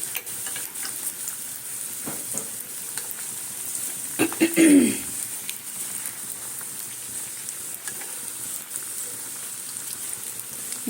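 Cauliflower and potato samosas fry gently in oil over low heat, a steady soft sizzle with sporadic crackles and a brief swirl of louder bubbling midway; a voice talks faintly at points.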